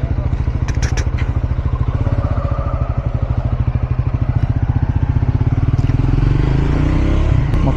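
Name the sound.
motorcycles and scooters riding: Unicorn, Jupiter, Access 125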